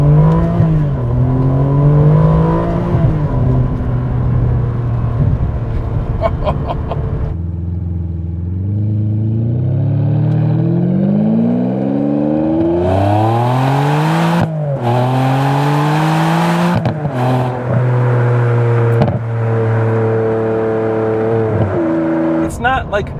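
A Ferrari 575M's big V12 engine revs and pulls hard through the gears of its gated manual shifter, rising loudly in pitch with each shift from inside the cabin, with someone talking over it.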